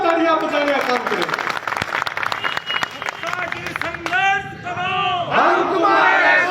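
A rally crowd claps and shouts in response to a speaker, with bursts of applause and cheering under and between loud amplified speech and chanting voices.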